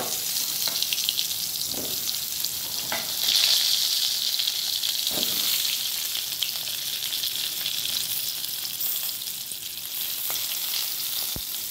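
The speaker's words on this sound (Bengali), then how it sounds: "এবার এই তেলের মধ্যেই পটলগুলো দিয়ে দিচ্ছি।" Pieces of pointed gourd (potol) fry in hot oil in a pan, a steady close sizzling hiss with occasional crackles and soft stirring clicks, no talking.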